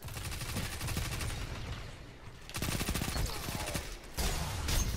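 Sustained rapid submachine gun fire in Destiny 2, a dense stream of shots in three long bursts separated by a brief pause, loud and close, with light voice underneath.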